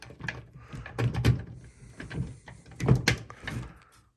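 The back door of an old arcade game cabinet being handled, a few wooden knocks and scraping rattles at close range, fairly quiet.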